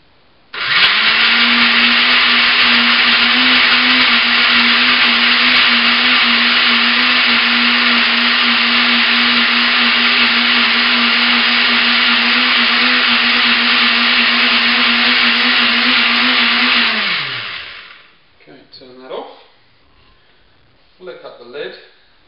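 A blender runs continuously, loud and close, for about seventeen seconds while mixing a thick natural health drink, then winds down to silence followed by a few faint handling knocks.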